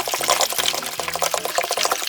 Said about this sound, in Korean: 생수 3리터를 부어주세요.